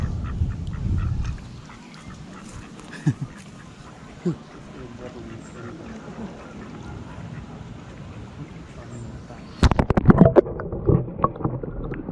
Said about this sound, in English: Duckies, I've got some meat for you.